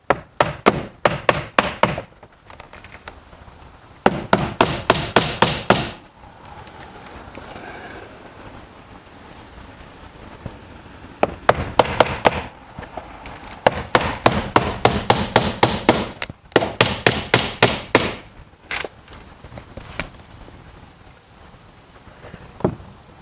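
Hammer driving nails into garage door weather stripping, struck in bursts of rapid sharp wooden knocks, close and loud, with quiet pauses between the groups of blows.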